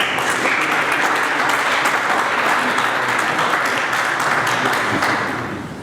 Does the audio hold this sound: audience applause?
yes